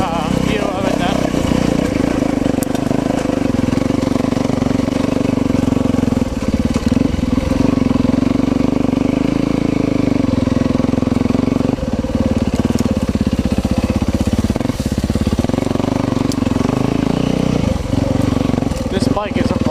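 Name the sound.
Yamaha FX dirt bike engine running and revving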